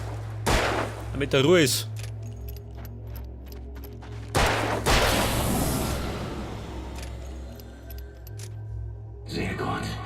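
Revolver shots from the video game Alan Wake, a couple of sharp, loud bursts with a long decaying echo, heard under a German-speaking voice and game ambience.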